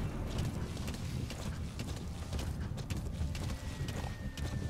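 A horse gallops across open ground in Metal Gear Solid 5, its hooves drumming in a fast, steady clip-clop rhythm that stays close and loud throughout, with faint mechanical rattles underneath and no voices.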